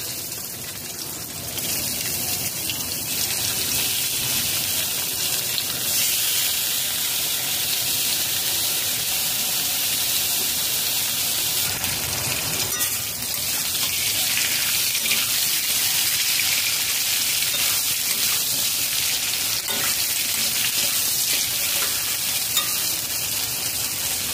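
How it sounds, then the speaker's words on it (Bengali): Pumpkin pieces frying in a pan, giving a loud, continuous close-up sizzle and hiss with occasional stirring, unbroken for the whole stretch and free of any voices. "বাকি কুমড়ো 2 মিনিট করে ভেজে নিতে হবে।"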